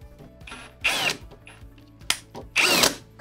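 A power drill drives a screw into a wooden shoe rack in two loud whirring bursts, with a quieter pause and a short click between them, heard close and with no talk.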